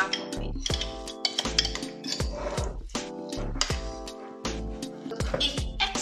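Beef is mixed by hand in a marinade, with a utensil knocking against a bowl in a steady series of close, bright clinks and rattles, no talking.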